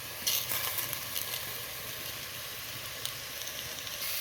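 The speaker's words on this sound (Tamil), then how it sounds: "செஞ்சு வச்ச வெள்ளைப்பூடு இஞ்சி பேஸ்ட்டை சேர்த்துக்குவோம்" Garlic ginger paste fries with browned onions for a Sri Lankan home-style biryani, a soft steady sizzle with a few brief spatters and stirring scrapes near the start, fairly quiet and without speech.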